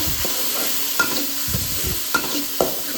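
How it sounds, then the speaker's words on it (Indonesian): Teri sambal mixed with tofu is stirred in a pan over a low sizzle, with a few distinct spatula scrapes and knocks against the pan at intervals, close and clear. "Kita aduk dulu."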